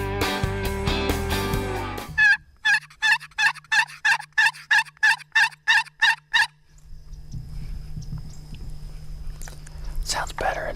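A hunter's turkey call, used outdoors while hunting Osceola turkeys, gives a quick series of about ten sharp gobbling bursts, preceded by other sound and followed by quiet outdoor rustling.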